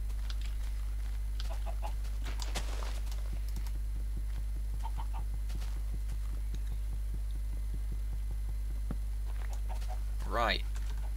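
Chickens in a video game give a few short, faint clucks and chirps over a steady background hum and a run of soft, patter-like clicks, with one clearer warbling call near the end.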